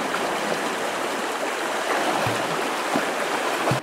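The Kaipo river in the New Zealand backcountry rushes steadily, a broad, close wash of flowing water with no pauses, joined by a few faint low knocks near the end.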